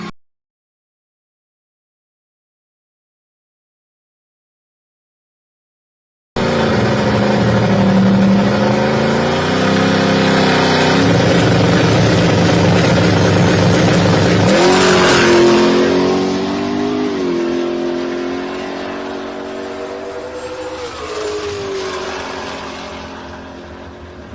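A 1994 Ford F-150 and a 1963 Econoline pickup drag race at a summer drag-racing event. After a silent stretch, a loud, close engine roar starts abruptly, swells with rising pitch and then fades gradually toward the end.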